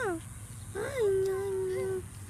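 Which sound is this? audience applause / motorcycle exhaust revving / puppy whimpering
puppy whimpering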